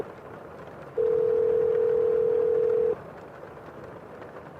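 A single steady telephone tone sounds for about two seconds during a call attempt, then cuts off, heard clearly above faint room noise.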